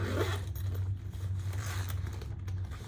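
A zipper on the outside of a modified Aries crossbody bag is pulled open in one steady, close, rasping run over a low background hum.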